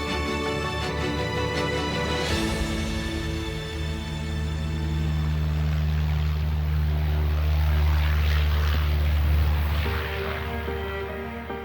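A propeller airplane flies over the Cher river valley near the Loire, its droning engine sweeping past with a shifting pitch that swells louder midway and then eases, heard alone with no talk.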